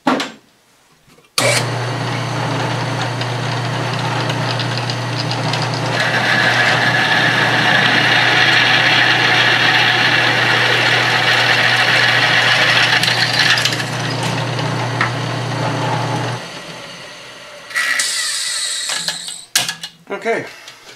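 A drill grinds steadily into metal, stepping up through bit sizes, with a loud, continuous mechanical whine and rumble for about fifteen seconds, followed by brief clanks and handling noises.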